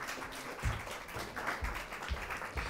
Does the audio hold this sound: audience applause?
yes